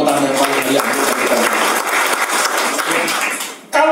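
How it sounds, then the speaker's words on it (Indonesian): A church congregation at a sermon breaks into loud, sustained applause, many hands clapping close together before it fades briefly and then picks up again at the end. "Berikan tepuk tangan yang paling meriah."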